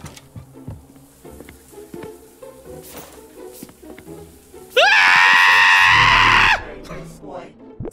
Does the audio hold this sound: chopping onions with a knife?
no